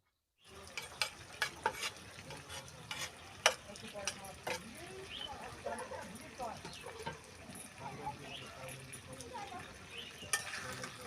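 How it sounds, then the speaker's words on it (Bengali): Fried cauliflower, potato and carrot added to a pan of chicken for a winter vegetable curry, with a soft, continuous sizzle and repeated sharp clinks and scrapes of a spoon against the pan, fairly quiet overall. "এরপরে আমি এর মধ্যে দিয়ে দেব ভেজে রাখা ফুলকপি আলু এবং গাজর"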